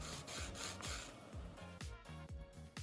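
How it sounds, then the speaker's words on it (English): A nail file sanding the surface of a natural fingernail in quick, even back-and-forth strokes, a close, quiet rasping rhythm repeated many times. "Lightly create scratches on the surface of the nails using this file."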